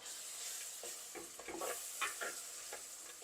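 Crab masala sautéing in a pan hisses softly and steadily, while a spoon stirs it with a run of quiet scraping strokes near the middle.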